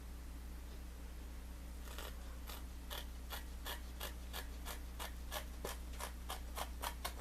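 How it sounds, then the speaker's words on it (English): Scissors cut through a table tennis rubber sheet in a steady series of about fifteen crisp, evenly spaced snips that start partway in, faint over a low steady hum. "we'll just keep cutting through the end and it'll cut off there evenly"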